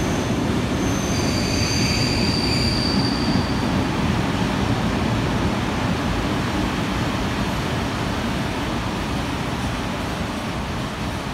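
A train departing Hurstville station in New South Wales rumbles steadily and loudly throughout, with wheel squeal and high metallic whines early on, sounding close by.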